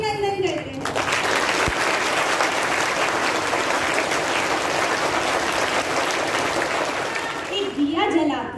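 Sustained, energetic applause from an audience at a Labour Day celebration, rising quickly, holding steady for several seconds and dying away, with voices faintly heard at the edges.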